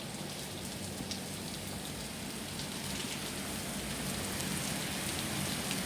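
Steady rain falls outdoors as a dense, even hiss of drops hitting surfaces, continuous and moderately loud with no voices.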